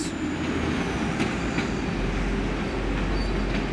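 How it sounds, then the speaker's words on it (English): A Class 185 Desiro diesel train departing York station toward Scarborough, a steady loud rumble of engine and rolling wheels with faint clicks of rail joints, continuous and close throughout. "here you can see a Class 185 Desiro departing York for Scarborough"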